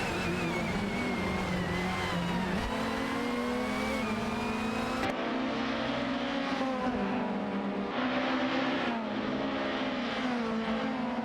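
Race cars including an Audi A4 and a Hyundai rev and accelerate in a simulated AI racing game, a continuous layered engine drone rising and shifting through gears, fairly loud, with no voices.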